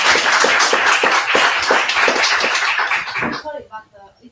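A conference session audience applauds steadily with many hands clapping at once. The sound is dense and continuous, then fades toward the end. Voices mix in under the applause.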